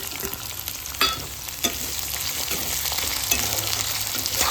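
Garlic and small sliced onions fry in a pan with a loud, continuous sizzle and crackle, punctuated by a few sharp stirring knocks, close and with no voices.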